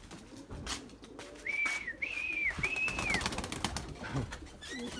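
Erzurum white pigeons at a flying loft give a few clear whistling calls in a row over a noisy background, with faint rustling and shuffling around them.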